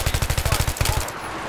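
Rapid automatic gunfire in the video game Battlefield 3, a fast steady burst of about a dozen loud, close shots that stops abruptly, leaving a faint hiss.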